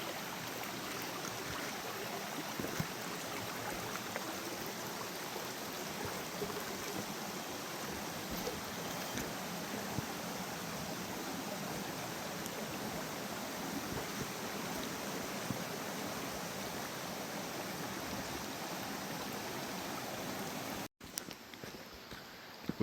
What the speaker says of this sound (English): This is Gheerulla Creek. You can get your feet wet on this creek crossing.